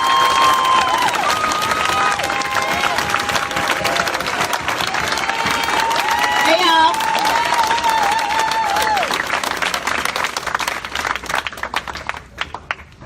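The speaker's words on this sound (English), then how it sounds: "Let's give her a round of applause as she comes." Crowd at a street protest in Rochester claps and cheers to welcome a woman activist, sustained applause with shouts and whistles, a voice rising through the noise before the clapping thins out toward the end.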